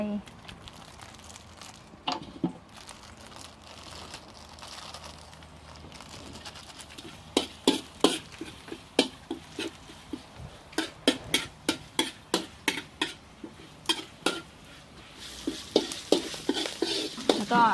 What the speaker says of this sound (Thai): เดี๋ยวเราจะใส่น้ำมันเลยนะคะ ใส่พริกเลย เดี๋ยวเราจะพริกแกงใส่